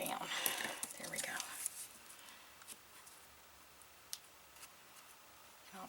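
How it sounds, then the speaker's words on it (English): Small scissors snip into the groove of a craft gingerbread man ornament, making a few quick, faint, close cuts followed by quiet ticks and handling sounds. "I'm actually going to use a little pair of scissors to get down in that little groove there, and I'm going to cut it off right there"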